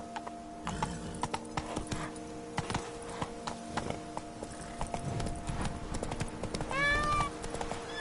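Roach, the horse in The Witcher 3 video game, galloping with rapid, irregular hoof clip-clops over steady game ambience, and a brief whinny near the end.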